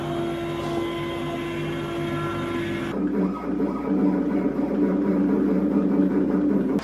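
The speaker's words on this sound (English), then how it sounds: "The plasma machine is, the fan in there is just going nuts." A CNC plasma cutter machine in a home workshop, its internal cooling fan whirring loudly and steadily, with a shift in tone partway through as a broadband rushing drone takes over.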